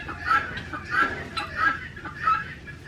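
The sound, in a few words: guinea fowl calling loudly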